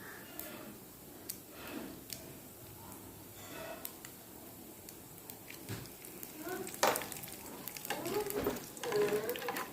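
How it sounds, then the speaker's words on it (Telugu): Dal frying in oil for tempering with a dried red chilli added produces a soft, continuous sizzle, with stirring scrapes and a few sharper crackles as it goes on. "ఇలా పప్పు మొత్తం ఫ్రై అవుతుంది టైంలో దీనిలోకి ఒక ఎండుమిరపకాయ కూడా వేసుకుంటున్నాను తాలింపులోకి"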